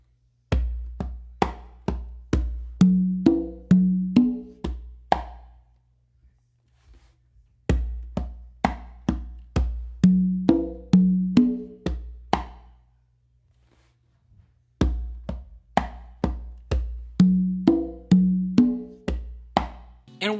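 Congas play a bolero pattern mixing sharp slaps, open tones and low bass strokes in three repeated phrases, each followed by a brief pause, up close with no talking.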